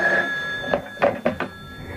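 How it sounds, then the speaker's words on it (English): An old telephone rings in a 1979 radio drama, with short separate bell bursts near the end following a steady hum, loud and close, with no talking. "The phone. I gotta answer that."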